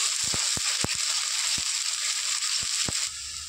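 Dhokla batter being stirred right after water is added, steady broadband hiss with a string of short scraping strokes at an uneven pace, close and moderately quiet, with no voices.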